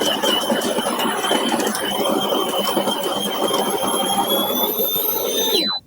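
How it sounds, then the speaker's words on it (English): Homtone espresso machine's built-in grinder grinding coffee beans, giving a steady, loud, high-pitched motor whine with gritty rasping underneath, close by for about six seconds before cutting off abruptly. "which automatically starts the grinding"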